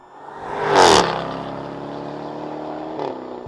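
A 2021 Jaguar F-Type's supercharged V8 revs hard, the roar rising to a loud peak, then drops to a steady rumbling idle with a brief blip near the end, close and alone.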